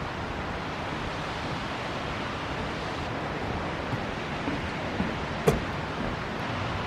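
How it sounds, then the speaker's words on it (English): Steady broadband rush of a waterfall heard from a viewpoint above it, a continuous even roar of falling water with a faint click or two and no talking over it. "I hear water."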